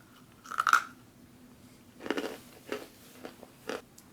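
Freeze-dried peach ice cream being chewed, a loud crunchy bite up close followed by several softer crunches at irregular intervals, with no talking.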